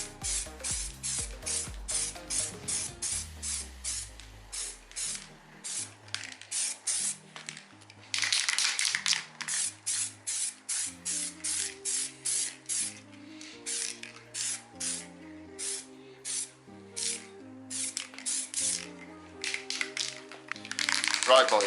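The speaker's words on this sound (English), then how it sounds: "let's go ahead and let the spraying begin" Repeated short hisses of an aerosol spray can painting grey plastic trim black on a modified Mk2 Ford Focus ST, bursts in quick rhythm with brief pauses, over soft music-like tones.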